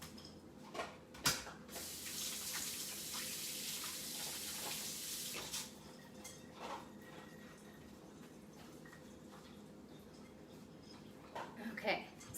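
Tap water runs steadily into a kitchen sink while hands are washed after cooking a baked feta and vegetable dish, a broad continuous hiss with a few clatters near the start and end, and a voice speaking over it.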